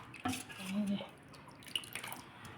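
Thick red lentil dal cooked with tomato, onion and peas being stirred in a pot: a short, close, wet sloshing with a couple of soft drip-like plops and a light utensil clink.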